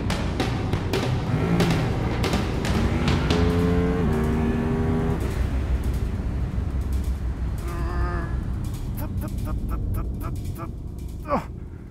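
A KTM RC8C sport motorcycle accelerates hard on a test track, its engine rising in pitch through several gear changes before fading, with a faint voice briefly audible over the roar.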